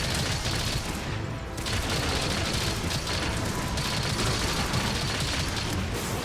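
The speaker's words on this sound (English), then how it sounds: "Mostly because we're burst firing the Pierce 1." Rapid bowgun burst fire with Pierce 1 ammo in Monster Hunter Rise, a dense, continuous barrage of loud crackling shots and impacts filling the whole stretch with only brief dips.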